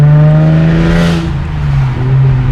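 Modified Hyundai Genesis Coupe 3.8 R-Spec engine driving in traffic, a loud steady droning exhaust note that swells briefly and settles, heard from inside the car.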